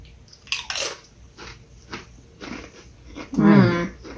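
Crunchy garlic-flavoured Doritos tortilla chips being bitten and chewed up close, a few loud crisp crunches with a heavier burst near the end, with a light vocal murmur between bites.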